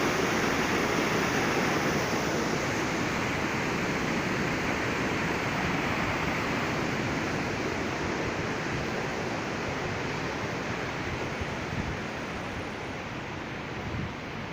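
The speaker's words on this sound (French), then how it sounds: "Parce que là, il y a une cascade impressionnante." A waterfall near a mountain village gives a steady, dense roar of rushing water, continuous and even throughout with no voices.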